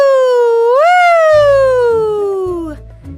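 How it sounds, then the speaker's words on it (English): A single loud, wailing fire truck siren sweeps up and then slowly falls, sounding close, with some rumbling noise underneath toward the end. "Then Pete turns on the sirens and lights. The sirens blare."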